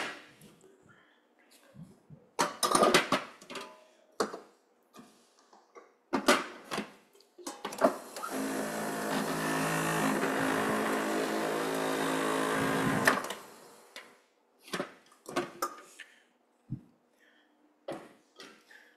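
A kitchen blender whirs steadily for about five seconds mid-clip, a dense sustained motor drone, bracketed by scattered clunks, taps and handling noises of food preparation before and after.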